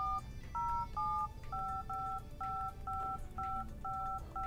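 Touch-tone keypad beeps sound on a Motorola Flipout phone as a number is entered, a string of about eight crisp, evenly spaced two-tone dial tones, close and clear.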